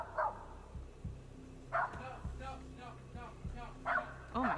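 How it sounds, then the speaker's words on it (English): A small Jack Russell Terrier barks in several sharp yips and bow-wows spread over a few seconds outdoors at night, fairly close, with excited voices talking over and between the barks. "The family dog, a little Jack Russell Terrier, seems to be particularly freaked out by the mysterious dark figure."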